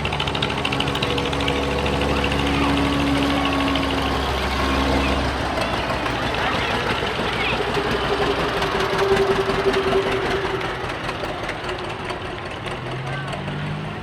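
An antique tractor with a straight muffler rumbles steadily at close range as it rolls along in a cotton gin parade, its engine running continuously. A voice can be heard in places over the engine.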